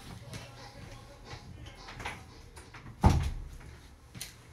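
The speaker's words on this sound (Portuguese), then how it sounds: "Deixa eu fechar a porta aqui." A door swings shut with one solid thud near the middle, preceded by faint shuffling and handling noises and followed by quieter knocks in a room.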